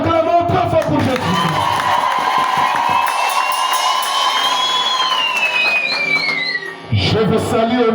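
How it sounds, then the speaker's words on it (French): A church congregation erupts in loud sustained cheering and whooping for Jesus, with high shouts and a long whistle rising over the crowd before it briefly dips and swells again. "Acclamons très fort pour Jésus."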